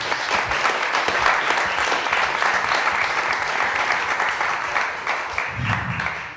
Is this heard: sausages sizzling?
no